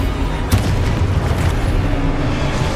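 Booming explosions from blasting spells in the video game Hogwarts Legacy, a sharp burst near the start followed by a dense, continuous low rumble of blasts and effects with no speech.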